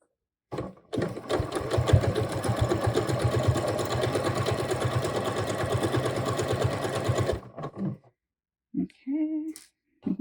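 A sewing machine stitching a skirt waistband over pleats with an edge guide, a close rapid mechanical chatter running steadily for about seven seconds, then stopping, followed by a few soft clicks and handling sounds.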